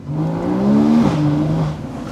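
A Porsche Boxster GTS engine revs up, its pitch rising then dropping sharply before settling into a steady hum; close and fairly loud, no talking.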